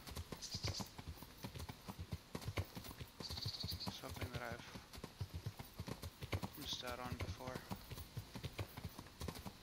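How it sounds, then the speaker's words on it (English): Rhythmic horse hooves clopping at a quick pace in the video game Kingdom Come: Deliverance, under a voice talking, with a couple of brief snorts or whinnies. "Keep forgetting how much faster this horse is than my other"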